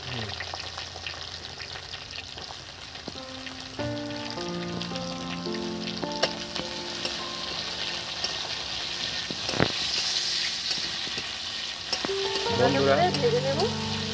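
Sliced onions sizzle in hot oil for a village-style aloo chokha, with occasional stirring clatter. The frying hiss stays steady and moderately loud, and tonal background music plays throughout, growing busier near the end.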